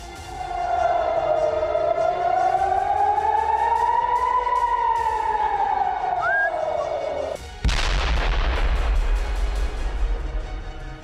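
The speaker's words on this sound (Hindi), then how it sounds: "सायरन की गूंजती आवाज के बीच आयरन डोम इन रॉकेट को नष्ट करता रहा" An air-raid siren wails long and loud over Tel Aviv during a Hezbollah rocket attack, then a sharp heavy blast cuts in, followed by rumbling booms and distant noise from Iron Dome interceptions.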